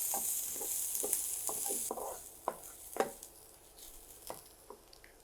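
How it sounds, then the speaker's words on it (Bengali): Peanuts fry in a pan for chicken curry, a faint hiss of hot oil under intermittent scraping and clattering strokes of a stirring spoon, with an early high crackle fading out. "এখানে যে প্রায় 14-15টা হচ্ছে বাদাম, সেটাকে ভেজে নিব"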